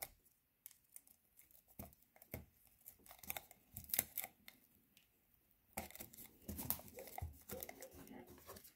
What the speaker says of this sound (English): we're gonna seal up one end of the toilet paper roll with tape